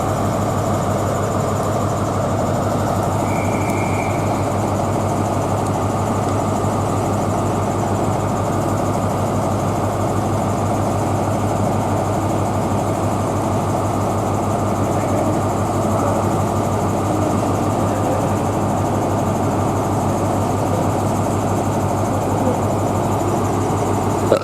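A Class 43 HST diesel train engine idling with a steady, loud low rumble and constant mechanical hum throughout, no talking.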